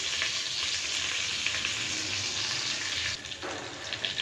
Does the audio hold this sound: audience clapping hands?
no